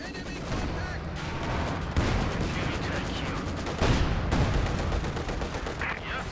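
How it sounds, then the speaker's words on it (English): Heavy gunfire rattles on both sides of a Company of Heroes 2 battle: dense, continuous bursts of rifle and machine-gun fire with sharp cracks, while a commentator speaks beneath the din. "Heavy fire going on both sides."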